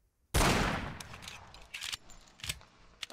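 Pistol fired at wooden targets on a training range in Hidden & Dangerous 2: one sharp, loud report that decays slowly, then a few fainter, scattered impacts and clicks.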